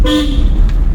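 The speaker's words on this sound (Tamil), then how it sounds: "ஹார்ன் அடிச்சிருக்கோம்." A car horn gives one short, loud honk up close, a brief toot fading out over engine rumble.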